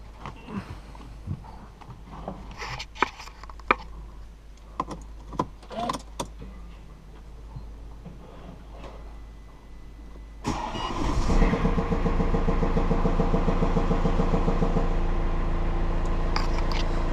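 A 2013 Mercedes C220 with its intake removed, first some clicks and clunks around the car, then the engine cranks, catches and settles into a steady, fairly loud idle.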